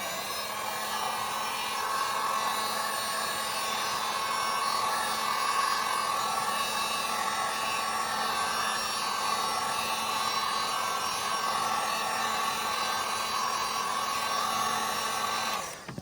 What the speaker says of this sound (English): I like to use a heat gun, go over it.